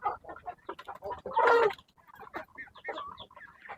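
Dumpo breeder gamefowl chickens clucking in a yard, with a dense burst of close, loud clucking and squawking in the middle, while a person talks throughout.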